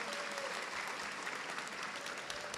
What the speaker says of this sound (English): We have to give a big round of applause for that